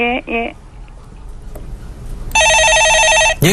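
Telephone bell rings on a Korean stock-market call-in show: two short electronic trills at the start, then a long loud harmonic ring later, with broadcast background between.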